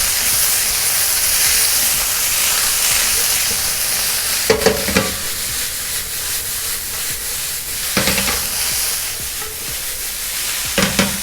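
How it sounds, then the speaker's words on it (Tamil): Red capsicum sautés in a pan for a homemade veg quesadilla, giving a constant sizzling hiss with a few sharp stirring clatters spaced through it. No one speaks. "So red capsicum. இதை ஆட் பண்ணிவிட்டு அதை சாட்டே பண்ணிக்கலாம்."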